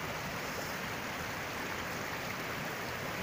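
A mountain stream on Elbrus flowing and rushing over rocks, a steady broadband water hiss, faint and unbroken from start to end.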